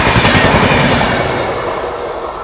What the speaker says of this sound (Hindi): भाई यहाँ क्रॉस कर रही है अपनी बिहार संपर्क क्रांति एक्सप्रेस